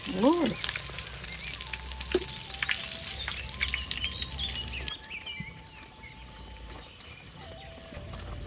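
Tofu frying in hot oil, a steady sizzle with close crackles and a few sharp clinks or scrapes, louder at first and easing slightly toward the end, with no talking.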